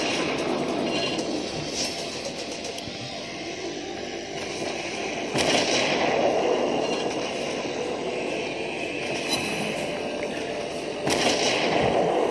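Naval guns fire in the World of Warships video game. Two sharp booming volleys cut through a steady mechanical rumble of the ship, several seconds apart.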